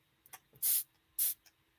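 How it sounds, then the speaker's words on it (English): A hair-care spray bottle mister fires two sharp, close bursts of fine spray, each about a quarter second long, with small clicks of the trigger around them. "this one is a mister. This, I'm going to spray it on the back of my hand."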